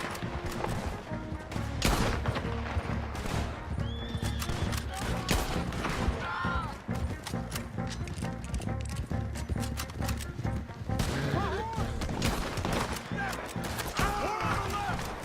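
A shootout in the Western video game Red Dead Redemption 2 fills the scene with scattered bursts of gunfire, hoofbeats and music, while voices shout over the fighting.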